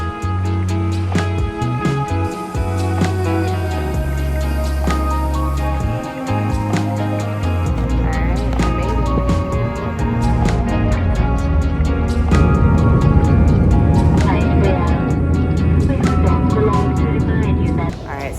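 Inside an airport bus carrying passengers to the plane in Athens, a loud diesel engine drones and revs through gear changes, with shifting tonal whine and rattles as the vehicle moves.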